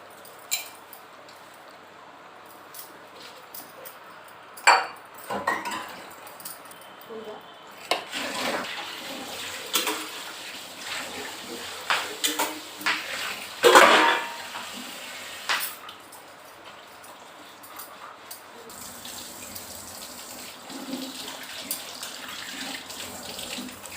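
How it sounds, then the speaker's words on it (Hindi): Dishes being washed at a home kitchen sink under a running tap, steady water flow with intermittent clinks and splashes of utensils, a few sharper knocks, close and moderately loud, with no talking. "अब मैं धोऊंगी बर्तन।"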